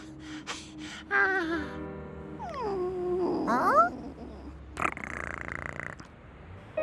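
A cartoon cat gives several short, bending meows, one after another, close and clear, followed by a burst of rustling noise and a soft background score.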